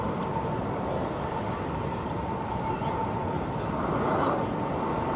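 A Spirit Airlines plane departs from DFW Airport, a dense, steady engine rumble with a faint tonal whine, sustained at fairly loud level throughout with no spoken words.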